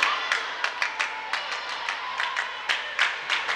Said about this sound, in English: The crowd just now getting into the game.